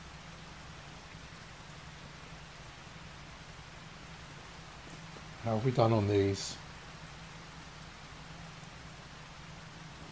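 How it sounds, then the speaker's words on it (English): Steady rain falling in the farming game Farming Simulator 25, a constant soft wash running through the whole stretch, with a voice briefly speaking over it midway. "Okay, so it says sunny, but it's still raining."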